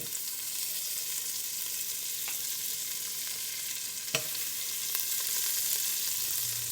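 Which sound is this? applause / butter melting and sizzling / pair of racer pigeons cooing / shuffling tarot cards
butter melting and sizzling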